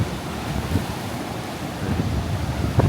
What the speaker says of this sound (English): Waves are rolling a little bit today.